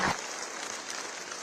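Audience applause at an Amar Ujala event in Lucknow, a faint, distant wash of steady clapping from a crowd, continuing evenly through a short moment.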